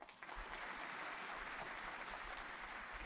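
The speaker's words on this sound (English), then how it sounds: "I'll clap for you guys." A stream applause sound effect plays clapping and cheering from a crowd, a steady, dense patter that holds at a fairly even level for about three seconds, with no talking over it.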